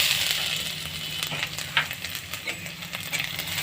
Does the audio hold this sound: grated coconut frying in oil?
yes